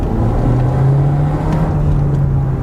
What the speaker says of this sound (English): Let's give it a little gas right about here.